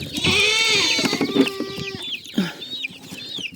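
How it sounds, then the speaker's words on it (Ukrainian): Young chicks cluck and peep loudly and continuously at close range while eating grain and cottage cheese on a small farm, with overlapping chirps throughout and no talk. "Ось так мої курятка їдять."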